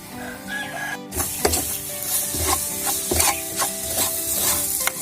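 Shan-style pickled soybeans sizzling in a hot pan as a utensil stirs and scrapes through them in irregular strokes, with a rooster crowing briefly in the background before the frying starts.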